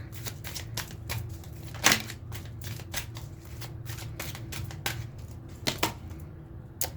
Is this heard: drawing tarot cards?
yes